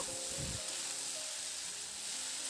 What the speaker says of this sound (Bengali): লবণ আর আদাটা দিয়ে আরও কয়েক মিনিট সময় ধরে একটু নাড়াচাড়া করে ভেজে নেব